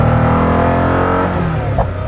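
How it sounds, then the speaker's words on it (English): A powerful hypercar engine roars and revs loudly and steadily throughout, its pitch shifting slightly as it drops off near the end. "It's amazing how much sound you could unleash in this car."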